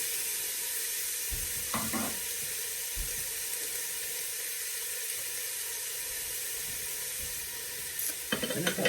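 Onions and peppers frying in a hot pan give a steady, close sizzle, with a few clatters of utensils against the pan near the middle and again at the end.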